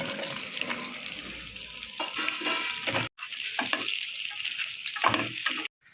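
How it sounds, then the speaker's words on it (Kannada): Okra (ladies finger) frying in oil in a pan makes a steady, fairly loud hissing sizzle, broken twice by brief sudden silences. "ಅದೇ ಬಾಣಲೆಗೆ ಹಚ್ಚಿಟ್ಕೊಂಡಿರೋಂಥ ಬೆಂಡೆಕಾಯನ್ನು ಹಾಕಿ ಫ್ರೈ ಮಾಡಬೇಕು."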